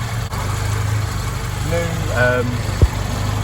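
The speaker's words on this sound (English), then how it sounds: "engine is on and running, as you can hear" A classic Ford Capri's engine idles with a steady low rumble throughout, while someone talks over it near the microphone.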